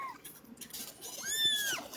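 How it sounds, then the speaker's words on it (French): A cat gives a short, fairly faint meow near the end, a rising then falling tone over a soft noisy background, with brief murmurs before it. "arrêtez de miauler"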